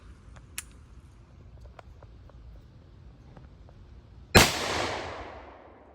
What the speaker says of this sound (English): we're gonna finish off this block of clay with some 3-inch slugs out of the Rossi brawler